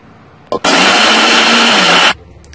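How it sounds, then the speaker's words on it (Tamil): Mixer grinder grinding masala for black chickpea curry: a brief click, then a loud, steady high-pitched whirring blade run for about a second and a half, stopping abruptly, close up. "இதை நம்ம மிக்சியில் அரைக்க போறோம்"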